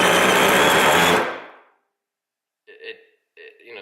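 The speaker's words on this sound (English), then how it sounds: "The drill is going to be on full power as well." A Milwaukee M12 FUEL 1/2-inch hammer drill runs loud at full power boring through metal, then winds down and stops abruptly, leaving silence and two short faint noises.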